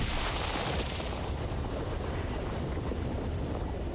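A basalt bomb explosion in the video game Valheim, set in the Ashlands: a loud, broad roaring blast that holds steady as a heavy rumbling wash for several seconds, with no talking.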